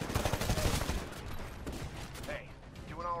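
Gunfire in the first-person shooter Titanfall comes as rapid bursts of shots clustered at the start, then scattered impacts and mechanical game sounds, with a player's voice talking over it.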